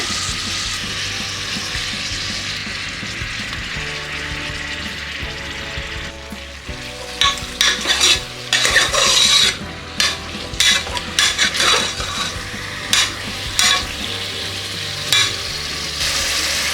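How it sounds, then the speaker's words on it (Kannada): Chicken pieces, a kilogram of them, frying and being stirred in a pan for a curry, with a steady loud sizzle throughout, then repeated scraping stirs and clinks of the utensil against the pan in the second half. "ಈಗ ಇದಕ್ಕೆ ನಾನು 1 kg ಚಿಕನ್ನ ಹಾಕೋತಾ ಇದ್ದೀನಿ"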